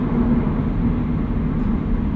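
A steady low rumble of road and tire noise fills the cabin of a 2018 Subaru BRZ tS sports car cruising down the road, constant and even with no voices.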